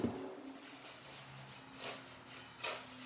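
Black pepper is ground over breadcrumbs in a home kitchen, a soft, dry scraping and rubbing with a few brief gritty bursts, close and fairly quiet, with no talking.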